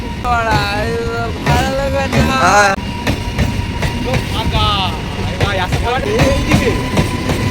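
A train rumbles steadily across the Kolaghat rail bridge while a person talks loudly over the noise, the running drone continuing underneath throughout.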